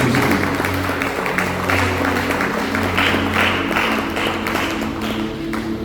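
Church congregation applauding to acclaim Jesus during a fervent sermon, a dense, sustained clapping that swells and wavers, with a low hum and murmured voices underneath.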